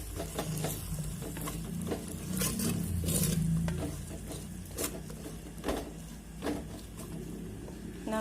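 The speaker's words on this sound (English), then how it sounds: "Mix it well." Curd being stirred into vegetable biryani masala in a pot, with steady scraping and stirring strokes over a soft sizzle, close and moderately loud, without talk.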